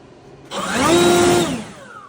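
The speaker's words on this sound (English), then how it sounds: "I'm gonna hit it with some compressed air" A compressed air nozzle blasts flakes off a car part from a budget Foxbody Mustang, a close, loud steady hiss lasting about a second with a tonal whine that starts abruptly and tapers off.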